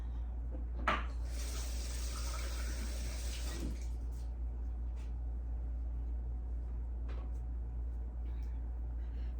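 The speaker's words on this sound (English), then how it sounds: "Rinse my hands." A kitchen tap runs as hands are rinsed during home baking, a short steady stream of water standing out from a constant low hum, followed by faint clinks and small handling sounds.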